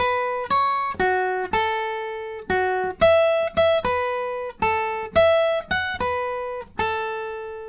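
A clean electric guitar picks the intro lead melody of a song: single sustained notes, some bent or slid, in a steady unhurried rhythm, nothing else playing.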